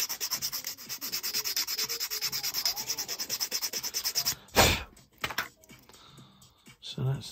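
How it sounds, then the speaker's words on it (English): Rapid back-and-forth sanding of a small plastic part for an Armory Su-24M Fencer-D scale model, a steady raspy scrubbing rhythm up close for several seconds, then a sharp knock and a few lighter handling sounds as it stops. "Sand it down and then sand it again."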